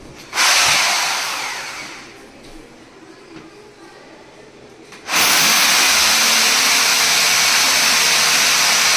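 A power drill boring holes in a wall to mount a TV frame, a loud harsh grinding burst that fades, a quieter pause, then a second sustained loud drilling run to the end.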